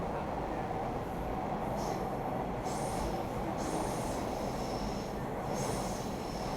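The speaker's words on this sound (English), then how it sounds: "Here I am sitting on the subway going from one end to the next" A subway train rumbles along its rails with a constant dense roar heard from inside the car, while faint high squeals from the wheels rise and fade over it.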